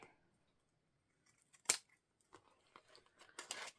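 Scissors snip paper to make a small craft tag: a sharp, close cut stands out alone, followed by several quieter snips and rustles of paper near the end in an otherwise quiet room.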